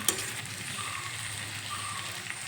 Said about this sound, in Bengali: একটু ঘন ঘনই ঢাকনা তুলে নেড়ে চেড়ে দিতে হবে